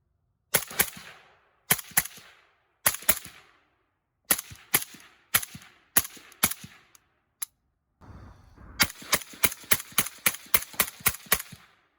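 An AK-74 rifle in 5.45x39, an SLR 104FR fitted with a Dead Air Nomad 30 suppressor, fires single shots and rapid strings of muted cracks, close, separated by silent gaps.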